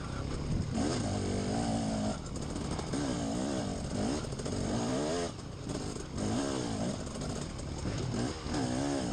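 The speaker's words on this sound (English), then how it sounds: "I got some guy revving me at a 4-stroke" A four-stroke motorcycle engine revs repeatedly at a hare scramble race, its pitch rising and falling in waves over a constant loud rumble, close by.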